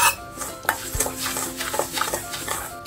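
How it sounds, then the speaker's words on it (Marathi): A spoon stirs curd into semolina in a bowl, scraping and clinking against the sides in quick, uneven strokes, close and fairly clear with no one talking. "हे दही या रव्यामध्ये मिक्स करून घ्यायचं"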